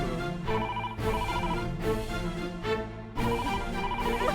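A telephone rings in a Hindi drama scene, with repeated bursts of tonal ringing separated by short pauses, loud and close with no talking.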